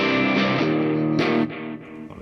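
Clean electric guitar chords ring out from a Carvin CT6 tuned to drop C with Fishman Fluence modern pickups, played through a Joyo Rigel preamp, with sustained notes and a fresh strum about halfway through.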